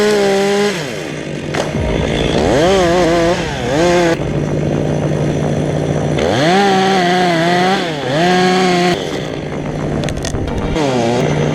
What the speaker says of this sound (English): That's the power of a chainsaw.